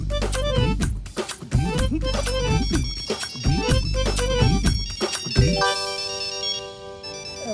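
A phone ringtone plays loudly, a musical melody with a repeating rhythmic pattern, shifting into sustained tones near the end.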